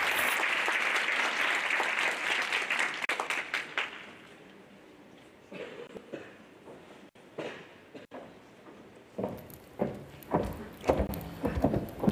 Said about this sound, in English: Please, may I have your applause for these amazing ladies